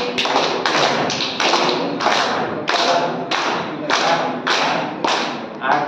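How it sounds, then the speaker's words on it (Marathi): A group clapping hands together in a regular repeating rhythm, each burst of claps thudding loudly and evenly, close by and with no other sound in between. "दुसरी टाळी तुम्हाला मी शिकवतो"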